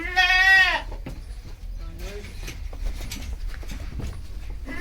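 A goat lets out one loud, wavering bleat close by on a goat-breeding farm, followed by quieter rustling and a faint second call in the background.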